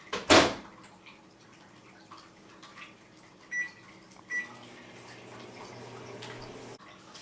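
A clatter, then two electronic beeps, and a microwave oven starts running with a low, steady hum while heating water, before stopping with a click.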